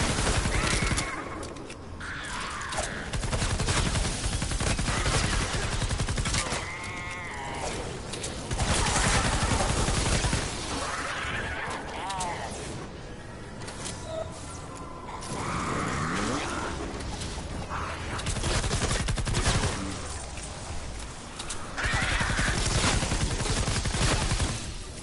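Video game gunfire in bursts of rapid shots and fusillades, loud and near, repeating over about twenty-five seconds with brief lulls, mechanical clatter and occasional voices underneath.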